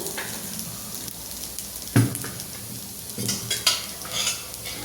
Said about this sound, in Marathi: मसाल्यामध्ये आता एक खोबरं भाजायला टाकायचं।